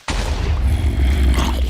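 A Minecraft explosion: a sudden loud boom that erupts and holds as a dense, rumbling roar for over a second, up close and filling the sound.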